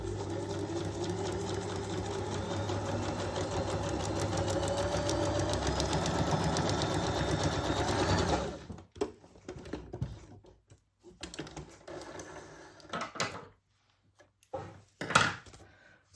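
A sewing machine stitches through paper for a paper craft, running in one steady, continuous burst for about eight seconds, then stopping and leaving quiet, scattered handling noises.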